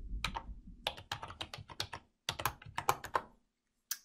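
Keystrokes clatter on a computer keyboard as a username and password are entered: rapid close taps in quick bursts, a brief pause, another flurry, then a final single press.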